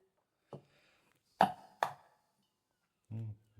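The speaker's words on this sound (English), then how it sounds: "Easiest way is crack an egg that way" Eggs cracked one at a time on a flat surface while making gluten-free toad in the hole: three sharp, close knocks, two in quick succession, then a duller thud near the end, with quiet pauses between.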